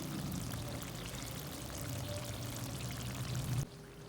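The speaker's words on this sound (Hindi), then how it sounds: "हमारी आज की रेसिपी बीफ मिक्स वेजिटेबल तैयार है। अभी हम इस करेंगे डिश आउट।" Beef and mixed vegetable curry is dished out of the cooking pot, a steady close pouring, sloshing stream that stops abruptly near the end, with no talk.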